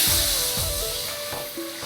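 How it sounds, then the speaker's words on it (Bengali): Water heats in a pan for a jackfruit seed and taro leaf dish, giving a short burst of close, steady hissing and bubbling with a few soft pops and no voices. "জলটা কি সুন্দর বক বক করে জাল উঠে গেছে,"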